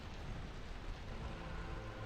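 Storm rain from the video game Against the Storm hisses in a dense, steady wash with a low rumble beneath, continuous and even, with no talk.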